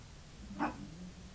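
A dog gives a single short bark at a door, wanting to be let in, heard once at moderate distance over a quiet room hum.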